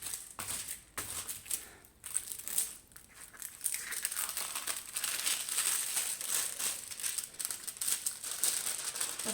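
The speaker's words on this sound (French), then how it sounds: "quand c'est roulé comme ça, vers l'extérieur, c'est beaucoup plus facile à aplatir" A rolled poster being unrolled and pressed flat: close, irregular paper crinkling and crumpling with rustles and soft thumps, and no voices.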